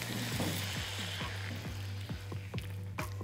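Tomato-paste mixture for a scampi roll sizzles and fries steadily in a pan, with repeated short scraping clicks from stirring at a close, even level throughout.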